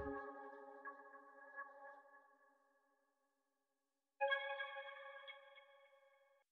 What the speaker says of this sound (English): it's the NVX preset inside of the darkness analog lab bank